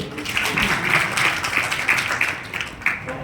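An audience applauds at a spoken gathering: steady, moderately loud clapping with a pulsing rhythm that runs through the whole moment, with no voices over it.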